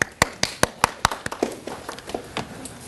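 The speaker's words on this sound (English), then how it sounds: "I think you deserve a round of applause" A small audience at a community talk about British Bengali marriages gives a short round of applause: a few sharp, separate claps that quickly thin into softer, scattered patter.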